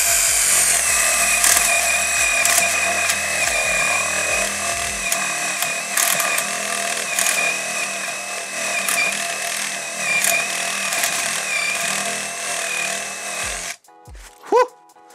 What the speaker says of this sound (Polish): 28 mm może być. Jakieś tępe, ale zobaczmy. 28 mm wiertło łopatkowe.